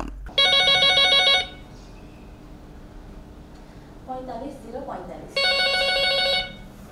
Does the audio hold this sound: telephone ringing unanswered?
yes